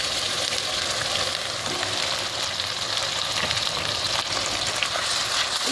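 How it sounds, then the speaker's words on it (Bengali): Ginger-garlic paste frying in a pan with onions and rice, giving a loud, continuous close-up sizzle and crackle with no pauses and no voices. "এটাকে একটু হালকা করে ভাজা ভাজা করে নেবো"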